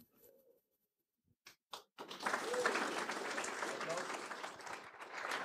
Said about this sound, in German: Applaus für Jenny, Alexandra, Melanie und Nathalie